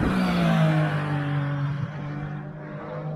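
Porsche 992 Cup race cars run at the Nürburgring during test sessions, a loud engine drone that swells early and then sinks in pitch as a car pulls away into the distance, with no voices.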